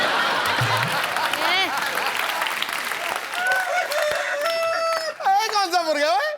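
A voice imitates a rooster crowing, a drawn-out warbling cock-a-doodle-doo, amid crowd noise and laughter.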